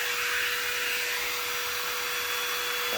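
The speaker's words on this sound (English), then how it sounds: "the vacuum," A vacuum attached to a Surf Prep sander runs steadily, a loud, continuous close-up whooshing roar that holds an even level from start to finish.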